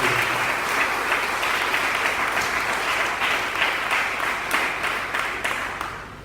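A church congregation breaks into sustained applause, a dense wash of many hands clapping together that stays strong before tapering off near the end.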